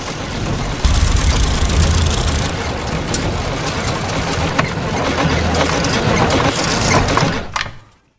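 Car engine in a film sputtering and struggling to run, a heavy, uneven rumble with knocks and clattering bursts, loud and close, cutting out abruptly near the end.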